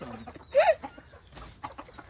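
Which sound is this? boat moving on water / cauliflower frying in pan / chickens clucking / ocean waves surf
chickens clucking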